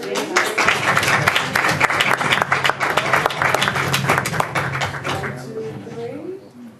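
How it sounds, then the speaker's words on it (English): An audience at a school board meeting breaks into a burst of applause, dense clapping that runs for about five seconds before tapering off, followed by a few murmured voices nearby. "let's give them a nice round of applause"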